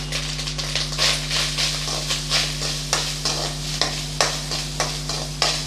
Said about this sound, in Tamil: அரை கப் அளவு தேங்காய் தூள் எடுத்து வச்சுருக்கேன் அதையும் இது கூட சேர்த்துடலாம் சேர்த்து நல்லா வதக்கி விட்டுக்கலாம்